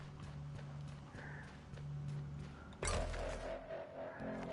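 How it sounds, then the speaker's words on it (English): A horse in the Western-themed video game Horizon: Weird West trots in with steady clip-clopping hooves, followed by a louder burst of motion and movement noise, heard fairly quietly in the game's sound mix. "There's my horse."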